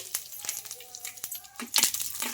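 Mustard seeds, cumin, urad dal and curry leaves crackle in hot tempering oil for idli batter, with irregular sharp pops and a steady sizzle, growing louder and busier near the end.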